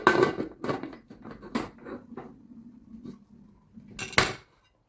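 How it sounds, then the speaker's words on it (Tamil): Metal clanks and rattles as a lid is set onto a pressure cooker of mutton biryani, a few sharp clinks followed by scraping, then one final clatter. "மூடி போட்டுடலாம்"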